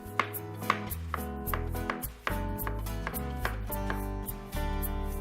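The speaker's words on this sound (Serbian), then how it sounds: "Povrće seckam na sitnije delove." Cucumber and carrot being chopped into small pieces on a cutting board: a quick series of close knife taps over a steady tonal music bed, with no voices.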